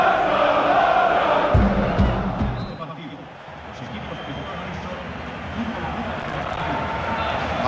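Large stadium crowd roaring in EA Sports FIFA 07, a loud broad wash of cheering that swells then dips and continues more softly under commentary.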